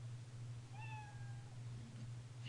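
A single cat meow from Scratch's built-in sound effect, clear and mid-length with a falling tone, alone over a steady low electrical hum.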